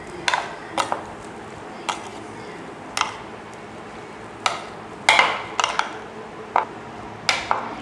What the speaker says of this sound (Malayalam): ഇനി നമുക്കിതെല്ലാം നല്ലവണ്ണം മിക്സ് ചെയ്തെടുക്കാം.